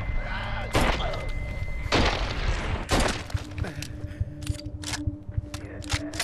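Gunshots in the zombie game ZombiU, a few loud, sharp, close blasts spaced about a second apart, then quieter clicks and handling sounds over a low hum, with no speech.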